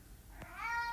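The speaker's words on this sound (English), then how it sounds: "Apologize for the cat meowing in the background." A cat meows once in the background, a faint rising-then-falling call near the end of a quiet moment, with no talking.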